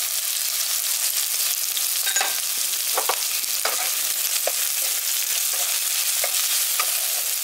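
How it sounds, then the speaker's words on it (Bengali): Chopped onion and three chopped green chillies sizzle in hot oil for a village-style tomato bharta, a steady close crackle broken by occasional scraping clicks of stirring, with no talking. "পেঁয়াজটা আর লঙ্কাটাকে হালকা করে ভেজে নিতে হবে, খুব বেশি ভাজার দরকার নেই।"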